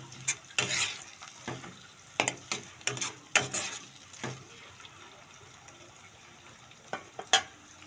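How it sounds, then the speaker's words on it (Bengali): Onion and green chilli fry in oil with a pinch of salt for a chicken curry. A quiet sizzle runs underneath repeated sharp clatters and scrapes of stirring, close by with no talking. "এখানে পেঁয়াজ আর কাঁচা লঙ্কাটা দিয়ে দিচ্ছি, এটা এবার ভাজতে দিয়ে দেবো"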